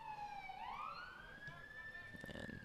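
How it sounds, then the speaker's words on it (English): Emergency siren rising and wailing in the distance during a varsity soccer game, a faint steady tone that sweeps upward and holds, under light ambient crowd noise. "there's our first siren of today"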